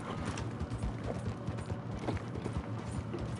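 Horse hooves clip-clopping in Red Dead Redemption 2, a steady rhythmic trotting of hoofbeats under a dense, moderately loud background.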